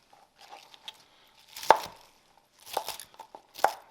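A knife rough-chops cooked corned beef cabbage on a board in a few spaced clusters of sharp thuds and soft crunches, close and fairly loud with quiet gaps between.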